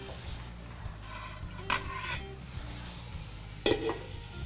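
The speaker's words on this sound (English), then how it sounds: "While we're waiting for our ham to sear on the first side" Ham searing in a pan over medium-high heat with the lid ajar: a steady low sizzle runs throughout, with two brief louder bursts of spattering and clatter, close by and with no talk.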